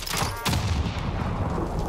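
Gunfire in the Warzone battle royale game, a loud dense burst of rapid shots with a sharp onset around the half-second mark, sustained and close throughout.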